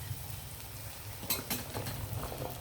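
Okra goes into a pan of prawns cooking with tomato, salt, chili and oil, giving a close sizzle with a couple of brief stirring scrapes partway through and no talk.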